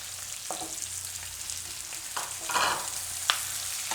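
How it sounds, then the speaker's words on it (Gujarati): Raw papaya and potato being stirred as they fry in a pan, with a steady soft sizzle and a few sharp scraping strokes of the spoon, heard alone at close range. "બધું મિક્સ કરી લઉં."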